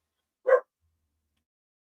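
A single short, sharp dog bark sounds once, close and clear, followed by silence.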